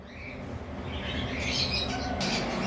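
Lovebirds squawk and chirp at a bird farm, a dense, continuous chorus of shrill calls that builds slightly louder toward the end.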